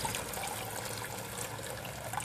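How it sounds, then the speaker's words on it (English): Water pours steadily into a container of diluted compost tea, a continuous close trickle and gush for a couple of seconds with no talking. "put water in it."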